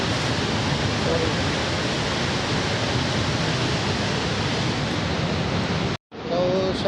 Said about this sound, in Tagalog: Nandito tayo ngayon sa Niagara Falls.